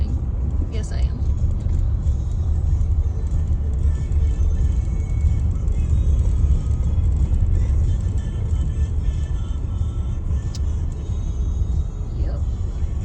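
Steady engine rumble and road noise from inside a moving car on a rural road near Boyne Falls, continuous and fairly loud throughout.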